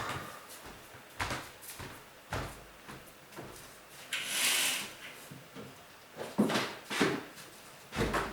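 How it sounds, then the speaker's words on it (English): Several dull wooden knocks and thumps from a door or drawer being handled nearby, with a brief rustle in between, no talking. "So let's close the door."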